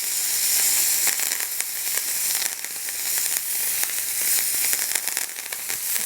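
Lamb sears in a hot pan with a loud, steady sizzle and dense crackling spatter that continues throughout, close and without speech.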